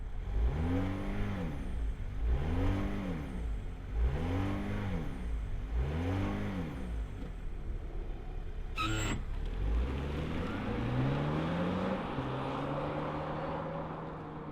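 A 2025 Alfa Romeo Tonale Tributo Italiano SUV revs four times in a steady rhythm, each blip rising and falling, then a sharp click and the engine settles into a rising idle, close and loud.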